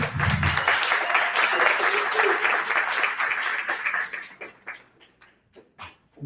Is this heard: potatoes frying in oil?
no